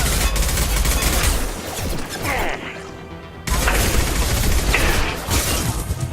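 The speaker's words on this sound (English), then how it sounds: "Firing a high-impact shot!" Heavy gunfire in the Mass Effect 2 video game: loud continuous bursts of automatic fire and impacts, a short lull midway, then another dense barrage.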